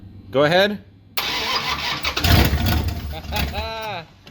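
A turbocharged Mopar car engine catches after a brief cranking burst and revs rough and loud, with people talking before and after it.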